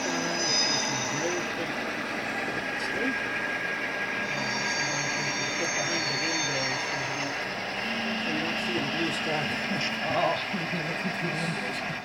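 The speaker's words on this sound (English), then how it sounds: "Now in a minute you should start to hear the squealer." Model train wheels squealing on a layout, a continuous thin high squeal over steady rolling rumble and clatter, close and persistent throughout.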